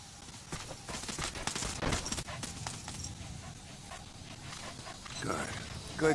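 A dog in the Metal Gear Solid V: The Phantom Pain video game moves and pants amid rustling game action and scattered bursts of noise, fairly loud and busy throughout.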